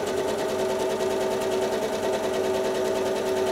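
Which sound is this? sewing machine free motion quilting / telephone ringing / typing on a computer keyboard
sewing machine free motion quilting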